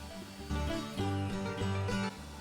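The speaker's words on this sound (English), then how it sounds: "Now we're going to cut it to its final length." A power saw trims a wooden cutting board to final length, its close motor whine surging under load in a short cut of about two seconds before easing off.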